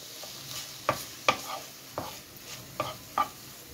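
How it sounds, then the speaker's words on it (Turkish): Meat searing for a Turkish kavurma, a quiet sizzle in a pan punctuated by about five sharp scrapes and clinks of a utensil stirring the pieces. "Hafif etlerimizi mühürleyelim biraz"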